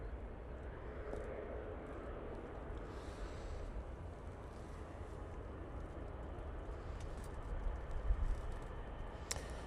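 An airplane flies over Knutsford near Manchester Airport, a faint, steady, distant engine rumble that holds evenly throughout with no speech.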